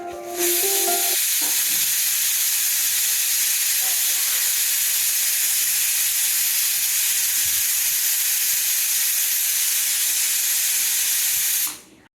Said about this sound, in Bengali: সে তো ওই কুকারে বসিয়ে দেওয়া হচ্ছে ঝোলটা, কারণ এই যে সিটি দিয়ে নামিয়ে দেওয়া হবে